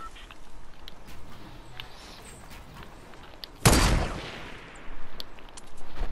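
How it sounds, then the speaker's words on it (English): A single loud gunshot from Fortnite cracks sharply after a quiet stretch of game ambience, followed by a few fainter bursts later on. "You gotta shoot it like that."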